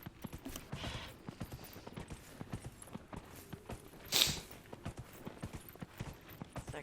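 A horse's hooves beat a steady, quick clip-clop in Dragon Age: Inquisition, rhythmic and fairly soft, with one brighter clatter midway.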